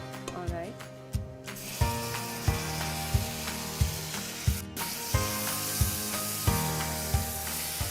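Browning onions sizzle in a pan as tomatoes go in for an Uttaranchali chicken curry: a constant frying hiss with rhythmic stirring knocks roughly once a second, set against background music.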